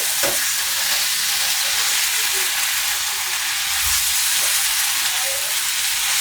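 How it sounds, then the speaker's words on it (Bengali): Mixed vegetables with spinach being stirred in a pan, with a continuous loud hiss of frying and soft scraping stirs underneath, close and steady throughout, with no talking. "লবণ দিয়ে আমি একটু নেড়ে ফেলে দেবো"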